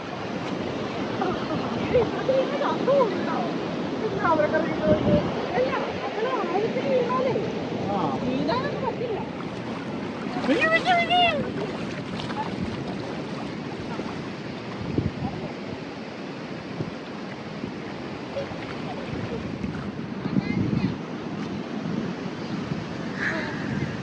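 Sea waves wash onto a beach on the UK coast at Whitby and Redcar, a continuous surf roar mixed with wind buffeting the microphone, while people talk throughout.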